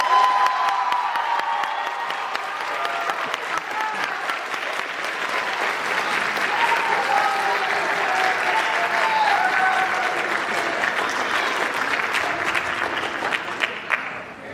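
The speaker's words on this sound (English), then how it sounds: "Let's give them another round of applause." Audience applause at a school band concert at Taylorview, sustained loud clapping from a large crowd with scattered cheers and whoops, steady for the whole stretch.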